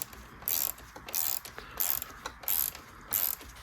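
Hand ratchet working on the oil cooler bolts of a BMW S1000RR motorcycle, bursts of rapid clicking pawl strokes repeating about every half second, close and moderately loud with quiet pauses between strokes and no talking.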